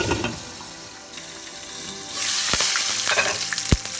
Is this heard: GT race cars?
no